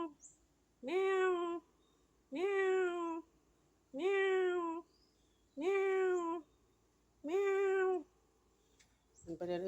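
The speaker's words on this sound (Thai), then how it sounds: "แมว แมว แมว" A cat meows five times, each a drawn-out, clear call close by, spaced evenly about every two seconds with quiet gaps between, and a short rustle at the end.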